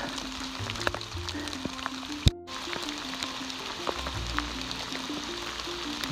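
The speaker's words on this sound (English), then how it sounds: "It's still raining." Rain falls on a forest trail along the Appalachian Trail in Georgia, a soft continuous patter with faint close taps and a brief knock partway through.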